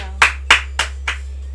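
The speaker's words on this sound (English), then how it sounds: "you started clapping really loudly" Four sharp hand claps ring out at an even pace against a steady low electrical hum, the last two a little softer than the first.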